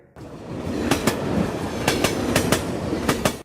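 A Mumbai local train rolls along with a steady rumbling roar, punctuated by sharp rhythmic clicks from the wheels crossing rail joints, heard close and continuous without voices.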